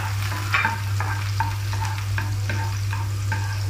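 Butter frying in a pan for chicken humba, a steady close sizzle with regular stirring scrapes every half second or so over a constant low hum.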